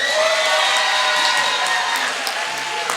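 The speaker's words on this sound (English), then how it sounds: "give yourself a round of applause" Graduates at an African American graduation ceremony clap and cheer for themselves, a loud dense mix of applause with whoops and shouts from a crowd, continuous throughout.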